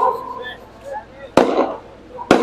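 Firecrackers going off outdoors: two sharp, loud bangs about a second apart, each with a short crackling tail, heard over a voice and the background noise.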